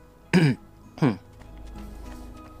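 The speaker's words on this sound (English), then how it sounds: "He says, coughing and wheezing." Two short, harsh coughs close together from a character in Assassin's Creed II, followed by faint raspy breathing over quiet game ambience.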